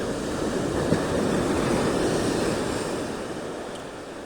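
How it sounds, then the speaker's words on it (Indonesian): Sea waves washing onto the beach at Legon Pari, a broad steady roar of surf that swells and slowly fades, heard close and loud with some wind, no voices. "Melihat air laut berdeburan ombak, melihat air laut berdeburan ombak secara alami ya."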